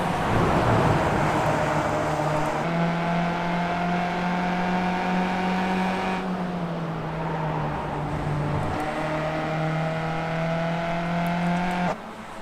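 Race cars from the Australasian Superskips series at Brands Hatch in a racing video game, engines droning steadily through a corner with audible pitch drops on lift-off and downshifts before climbing again, close and continuous with no speech.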